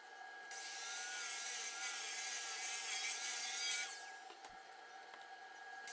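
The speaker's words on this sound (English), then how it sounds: "I'm just over at my miter saw station here, cutting the Padauk and the curly maple down." A miter saw cuts padauk and curly maple, a close, loud, steady whining rasp of blade through wood that lasts about three seconds, then drops back to the motor's quieter hum.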